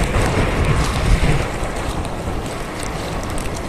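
Strong wind roars steadily across the microphone, heavy and buffeting, with a rumbling low end and no voices.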